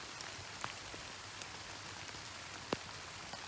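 Steady rain falls outdoors in Sweden, a soft continuous patter with a few sharper drop hits now and then; no one speaks.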